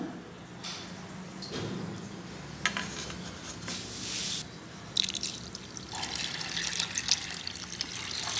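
Water poured over soaking peas and rice in separate vessels, heard as splashing pours and drips with clinks of utensils against dishes, close and fairly quiet, getting louder toward the end.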